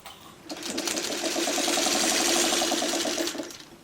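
A sewing machine stitches a small quilt mini block, a close, steady rapid needle chatter that starts up, runs evenly for about three seconds and stops, with no talk over it.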